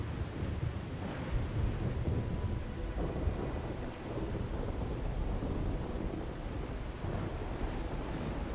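Steady rain pours with low rolling thunder rumbling throughout in a video game, a dense, continuous storm ambience with no voices.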